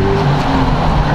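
Jeep Trackhawk engine idling nearby with a low, steady rumble, heard alone for about a second.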